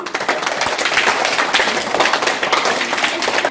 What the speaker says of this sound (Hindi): बहुत अच्छा किया आपने। तालियां बजाइए।